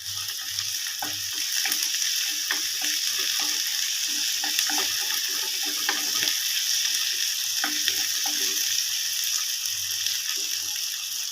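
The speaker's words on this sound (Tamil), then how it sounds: "ரொம்ப பொடியாக கட் பண்ணி தான் போட்டுக்கிறேன் நல்லா வந்து வதங்கட்டும்" Steady frying sizzle of finely chopped onions sautéing, with occasional stirring clicks and scrapes from a pan, continuous and fairly close, no voices.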